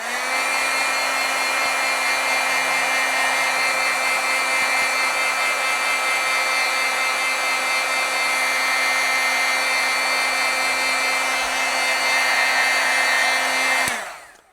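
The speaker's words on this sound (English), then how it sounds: "Let's heat set this a little bit." A heat tool blowing over a freshly painted stamped artwork to set the paint, a loud, steady whirring drone with a constant hum that runs for about fourteen seconds before cutting off abruptly.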